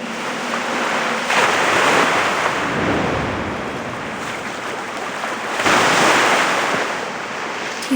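Ocean waves roll and wash in the video game Dragon Raja, a loud broad surf rumble that swells in two large surges, with wind-like hiss throughout and no voices.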